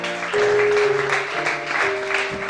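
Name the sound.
applause from congregation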